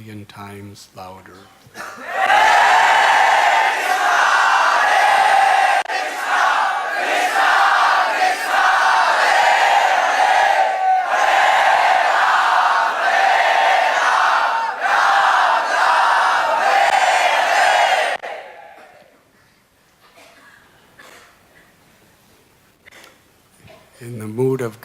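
A large devotional gathering loudly chants a holy name of Krishna in unison, a dense, sustained wall of many voices rising in waves for about sixteen seconds before dropping away to quieter murmuring.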